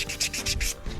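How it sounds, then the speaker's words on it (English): 80 grit sandpaper scuffs a plastic surface on an inflatable boat in quick back-and-forth strokes, several close, gritty rasps in a row, with no voices. "we got some nice 80 grit sandpaper here, so we're just scuffing up the surface"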